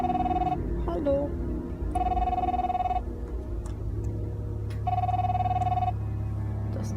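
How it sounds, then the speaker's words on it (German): A telephone rings in The Fidelio Incident video game, three evenly spaced electronic ring bursts of about a second each, fairly loud over a low ambient hum, with someone speaking between rings. "Telefon. Wie komme ich da ran?"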